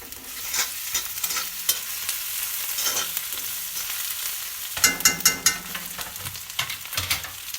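Ginger paste fries in a pan with a continuous close sizzle, broken by repeated scraping and tapping strokes of a stirring spoon, which turn into a quick burst of clatter midway.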